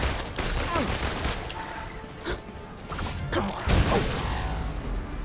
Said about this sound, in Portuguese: Então te dou uns tiros aqui, ó.